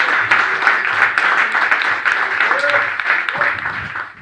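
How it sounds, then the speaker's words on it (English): A room full of people applauds a senior high school football player at a touchdown club coaches show, a loud, steady burst of clapping with a few voices calling out beneath it. "Let's give a round of applause to our senior, Michael Sportsman."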